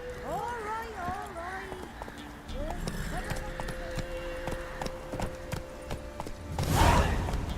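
Roach, a horse in The Witcher 3, gallops with rhythmic hoof clip-clops over a spoken line and game music, with a whinny and a louder burst near the end.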